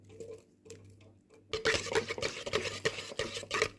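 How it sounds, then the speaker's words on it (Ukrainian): 25 grams of live active yeast is stirred into 250 ml of warm milk for a honey paska. Faint scattered taps come first, then busier close clinks and swishes of stirring against the bowl. "Перемішуємо, щоб дріжджі повністю розчинилися у молоці"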